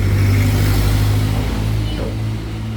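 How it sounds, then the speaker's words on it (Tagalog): Steady low rumble of passing vehicles on a nearby street, with engines droning continuously and no distinct pauses, loud and close throughout. "Ang ingay ng mga sasakyan dito sa amin"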